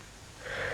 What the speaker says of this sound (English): He opened his eyes, yawned again, went back to sleep.